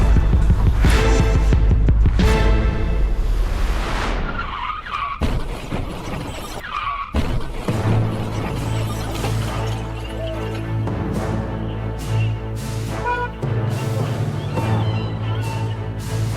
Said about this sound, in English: These two cars collide after a small mistake.